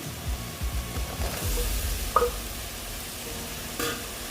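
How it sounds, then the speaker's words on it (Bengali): Potatoes go into a hot pan for a fish egg dish and are stirred as they sauté. A steady sizzle of frying runs under scraping stir strokes and a brief clatter of a utensil against the pan, with no talking. "এখন আমি আলুগুলো দিয়ে দিচ্ছি"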